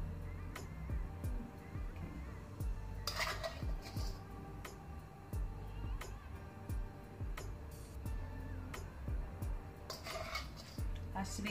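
A small metal spoon clinks and scrapes faintly against a dish as stuffing is pressed into pepper cavities for a keto stuffed-pepper dish, with soft irregular taps and light handling noise.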